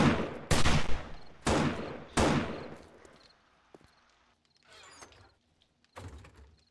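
Loud gunshots ring out during horde night in 7 Days to Die, three big reverberant blasts in quick succession decaying into quiet, followed by fainter scattered shots and rattling.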